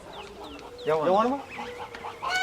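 A chicken clucks in short, choppy bursts close by, while someone speaks over the birds.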